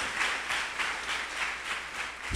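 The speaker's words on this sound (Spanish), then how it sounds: "Dale fuerte el aplauso al Señor, hermano" A church congregation claps in a steady rhythmic beat, a fairly faint and even pattern of hands repeating throughout with no speech on top.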